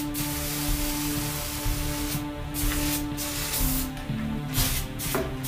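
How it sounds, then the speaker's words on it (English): Bursts of aerosol spray glue hissing close up while gluing countertop end cap pieces, several short sharp blasts in an irregular rhythm over a steady background hum. "We're going to shoot this with our spray glue."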